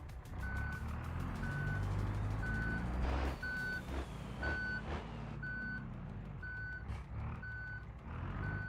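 A reversing truck in a driving game beeps in a steady, evenly spaced series of about a dozen tones over a low engine drone, with an air brake hiss partway through.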